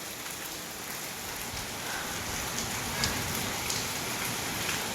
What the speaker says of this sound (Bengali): বিদ্যুৎও চমকাচ্ছে প্রচণ্ড বিশাল বিশাল বৃষ্টি হচ্ছে